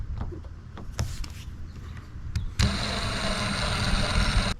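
A power driver set on low torque drives a screw into a Yak Attack Mighty Mount II on a kayak. A few short bursts come first, then a steady whirring buzz runs continuously to the end, close and loud.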